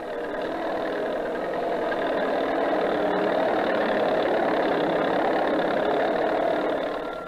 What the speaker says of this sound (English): There is some mechanical energy, 1 tractor.